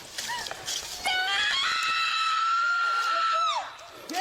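A woman's long, piercing scream during a tense police confrontation at a trailer park, loud and sustained for a couple of seconds over shouting and other commotion.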